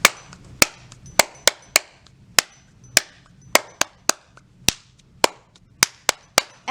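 Sharp hand claps ring out one after another in an uneven but lively rhythm, about fifteen crisp, close slaps with nothing else over a faint background hum.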